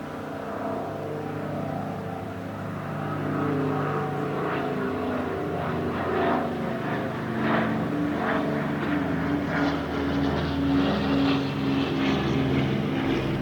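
Propeller aircraft flying in a tail chase formation at the Eastbourne airshow, a continuous droning engine tone that swells slightly as the planes pass, heard from a distance at steady volume.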